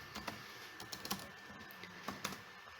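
Quiet keystrokes on a computer keyboard while entering a printf line of C code, sparse taps with short pauses, soft and close with no talking.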